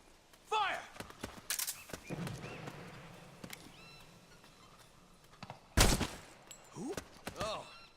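Gunfire in the video game Metal Gear Solid 4 comes as a couple of sharp, loud bursts, one early and one late. Shorter clattering sounds and voice-like calls fill the quieter stretches in between.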